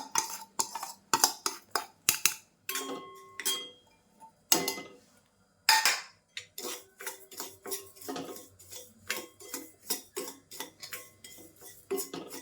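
Spoon stirring rice rava into leftover ghee in a metal kadhai for kheer, giving repeated close scraping and clinking strokes in an irregular rhythm, fairly quiet, with no voice.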